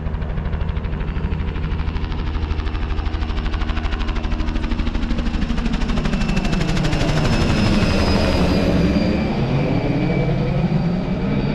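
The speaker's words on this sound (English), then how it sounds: "here comes the helicopter directly overhead" A helicopter spraying pesticide for gypsy moths over a park passes directly overhead, its loud rapid rotor chop steady throughout as the engine whine shifts pitch while it crosses.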